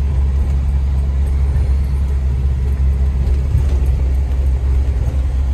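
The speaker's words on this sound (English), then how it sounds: "driving the Jeep." Stock 1995 Jeep Wrangler YJ driving on snow, a steady, loud low engine and road rumble holding evenly throughout with no talking.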